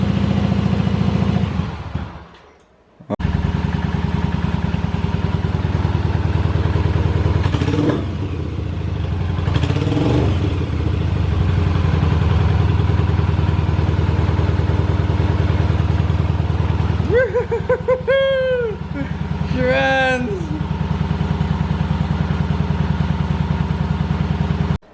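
A 1985 Yamaha Virago 750 motorcycle after a carburetor rebuild and new petcock, its engine idling steadily with a deep continuous rumble, a brief drop near the start and a few throttle blips, with people talking over it.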